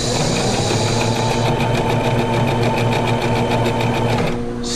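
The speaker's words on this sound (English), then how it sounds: "7 is a blind stitch zigzag." A Brother XL3750 sewing machine runs a blind stitch zigzag, a loud, steady, fast mechanical whir with rapid rhythmic ticking that stops abruptly near the end.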